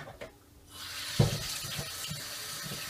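Tap water runs into a kitchen sink while vegetables are rinsed before boiling, a steady broadband wash with a brief splash or clunk near the middle.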